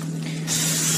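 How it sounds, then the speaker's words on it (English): Cooking spray hisses from a can onto pans in a home kitchen, one close, loud, steady burst starting midway over a low electrical hum. "Spray your pans just a little bit."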